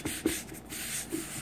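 Copper-bottom cookware being scrubbed by hand with Penny Brite cleaner to lift baked-on spots, a steady close rubbing, sanding-like friction with a few sharper strokes and no talk.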